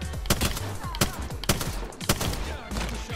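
Hemlok burst rifle firing in Apex Legends, a rapid series of loud sharp shots in clustered bursts across the whole stretch, with no talking.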